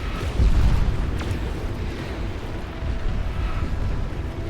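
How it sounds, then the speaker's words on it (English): A deep, rumbling roar of a nuclear missile launch in the strategy video game Beyond All Reason swells and sustains like a rocket launch, with a heavy low-end boom near the start and continuous blasting noise throughout. "if you don't know what that noise is, that means nuclear launch detected."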